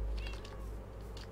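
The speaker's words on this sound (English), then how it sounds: "That's not my cat, that's a cat" A cat meows faintly in a Minecraft game, one short soft call over a low hum.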